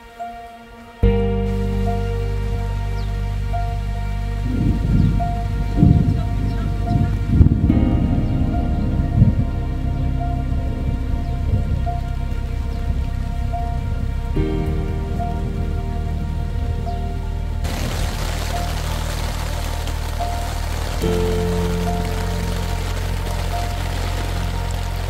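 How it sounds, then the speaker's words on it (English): Heavy rain pours steadily onto a campsite, a loud dense wash of drops drumming on surfaces with no voices, the downpour swelling and thickening partway through. "it's a wall of rain right here to right here, and it's coming right at us."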